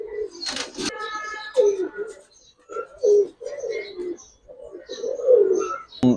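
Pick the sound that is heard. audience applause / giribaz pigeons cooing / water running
giribaz pigeons cooing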